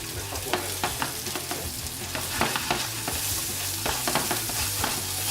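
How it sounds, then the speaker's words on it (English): Onions sizzle hard in a hot pan for steak fajitas, a loud, close, continuous frying hiss broken by repeated stirring scrapes and knocks. "Now we're going to throw the onions in there first."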